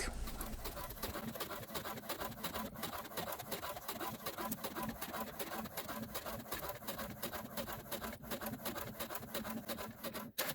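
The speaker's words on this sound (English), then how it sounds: "So I'm going to take this to the printer and run it through, print on it" An inkjet printer feeds and prints onto fabric, giving a steady mechanical whirring and rapid ticking carriage passes that hold at a constant low level for about ten seconds, then a brief clunk as it stops.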